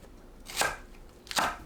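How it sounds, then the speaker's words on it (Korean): Two crisp knife chops through green onion on a cutting board, spaced about a second apart, close and clear with no talking. "파를 1cm 두께로 썰어줍니다."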